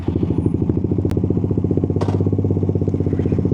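Suzuki GSX 150 motorcycle engine idling then pulling away in first gear, a steady close, loud thumping single-cylinder pulse with a brief clunk partway through.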